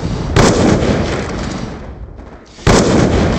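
Gunfire in the shooter Black Ops II, with loud close blasts and sustained rattling shots, a brief lull, then another sharp report and more firing.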